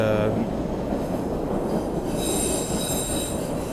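A train rumbles past close by, wheels grinding steadily on the rails, with a high metallic squeal rising toward the end.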